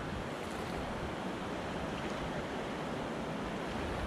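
Steady broadband rush of moving water on the French Broad River during a kayak camping trip, continuous and fairly loud with wind-like hiss and no voices.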